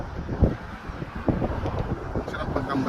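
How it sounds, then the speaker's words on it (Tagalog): Wind buffets the microphone outdoors near Marina Mall in Abu Dhabi in low rumbling gusts, with a couple of stronger bursts, while a voice talks faintly in the background. "Mahangin ngayon guys."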